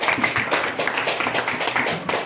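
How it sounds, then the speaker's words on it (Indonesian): Students in a classroom clapping for presenting groups, a close, uneven patter of hands with a few loose taps, lasting a couple of seconds without speech. "Ayo tepuk tangan untuk kelompok 2 dan kelompok 3."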